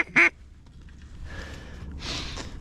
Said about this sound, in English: Got a pair of mallards coming downwind here.